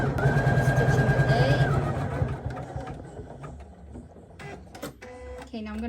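A home embroidery machine stitching a letter A onto a sweatshirt, a fast rhythmic mechanical whirring and buzzing up close that settles into quieter clicks and taps toward the end.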